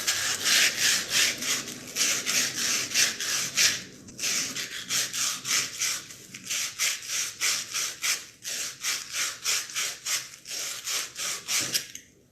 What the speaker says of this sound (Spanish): con este telita esmeril lo que estamos haciendo es emparejando la superficie de contacto y sacando todas las impurezas que quedaron depositadas en el colector.